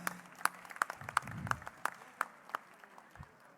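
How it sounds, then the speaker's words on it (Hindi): Sharp, evenly spaced claps ring out at a community gathering, roughly two per second in a steady rhythm over a faint background murmur, sounding like a few hands or a single clapper rather than a full crowd. "तो इनके लिए एक बार ज़ोरदार तालियां।"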